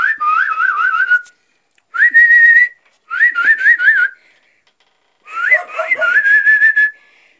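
A person whistles repeated warbling calls to pigeons in four separate bursts with pauses between them, loud and close.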